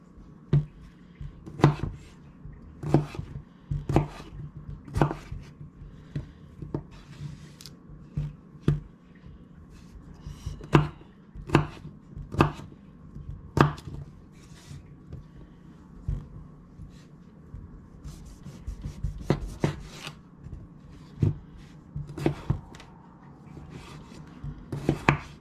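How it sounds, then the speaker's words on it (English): A knife chops potatoes on a cutting board for a slow-cooker pot roast, giving close, sharp chops in loose irregular bursts with brief pauses, some louder strikes standing out above soft handling noises. "it's time to cut up our vegetables to put in our pot roast"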